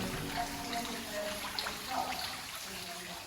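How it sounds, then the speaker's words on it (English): A garden fountain splashes steadily beside a small pond, a soft, continuous trickle and patter of falling water heard at modest distance for a few seconds. "and the fountain going"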